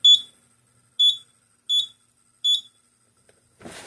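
Four sharp, high-pitched electronic beeps from a Simplex fire alarm system, spaced about a second apart, loud and close, followed by a brief burst of rustling noise.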